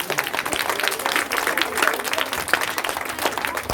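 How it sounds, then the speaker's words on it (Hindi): Audience clapping at an Independence Day speech event in India, a dense burst of applause from a crowd, fairly close and sustained. "और ताली बजाइए"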